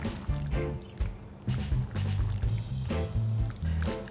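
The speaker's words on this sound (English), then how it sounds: "And now we'll gently apply the marination on the fish." Marinade being rubbed by hand onto fish pieces for fish tikka gives a series of wet squishing and smearing sounds in irregular bursts, close and moderately loud, with short pauses between strokes and no talking.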